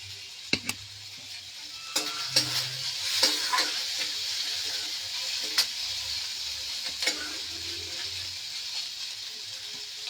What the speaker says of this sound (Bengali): দইটা দিয়ে আমি একটু ক্রিম বানাবো।